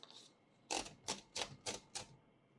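A 1948 Smith-Corona Sterling portable typewriter types five crisp, evenly spaced keystrokes, each a sharp clack, close and clear in a quiet room.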